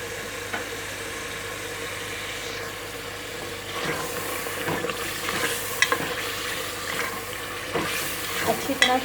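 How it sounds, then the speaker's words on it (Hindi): Beef bhuna gosht seasoned with garam masala frying steadily in a pan, a continuous sizzle broken by scraping spoon strokes that grow louder and more frequent toward the end, with no talking. "अच्छी तरह से मिक्स करेंगे इसे।"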